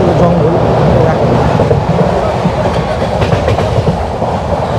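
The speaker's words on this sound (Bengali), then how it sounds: "এখন আমাদের ট্রেন ছুটে চলছে" Kamrup Express train speeding through hilly Assam countryside, a loud, dense rolling roar with rhythmic clickety-clack of wheels over rail joints throughout.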